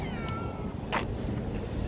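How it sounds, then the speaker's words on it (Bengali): A cat meows a few times against steady outdoor background noise by the sea, the calls short and fairly faint. "এখানে একটি বিড়াল"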